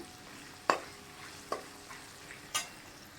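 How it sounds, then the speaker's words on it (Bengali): Pieces of ash gourd stirred into a frying curry, with a low sizzle underneath and four sharp spoon-scraping clacks at uneven intervals, close and fairly quiet with no talking. "চাল কুমড়োটাকেও দিয়ে দিচ্ছি"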